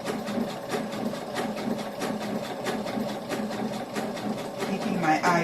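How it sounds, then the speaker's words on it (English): A sewing machine chain stitching a fabric shoulder bag, running steadily at close range with a busy rhythmic mechanical clatter throughout, with a voice talking intermittently over it. "I chain stitch the second piece"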